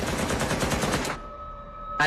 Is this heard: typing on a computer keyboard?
no